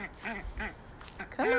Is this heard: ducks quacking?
yes